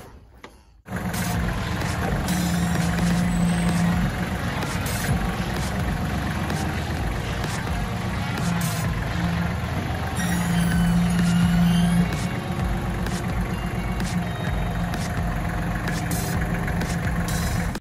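A Hinomoto NX-220 tractor engine with a factory front loader idles steadily at close range, a continuous low rumble with faint clanks and a slight rise in load partway through.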